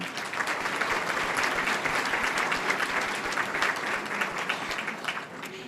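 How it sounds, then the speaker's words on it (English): An audience at a school district PTA council banquet gives a sustained round of applause, many hands clapping together in a full, continuous wash with no words spoken. "they need to be appreciated with a round of applause also"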